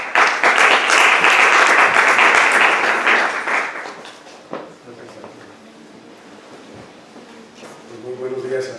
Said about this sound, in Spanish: Les pido que los recibamos con un fuerte aplauso